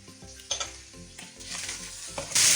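Chicken frying with julienned carrots, capsicum and cabbage, a steady close sizzle broken by several stirring scrapes and a louder hiss toward the end.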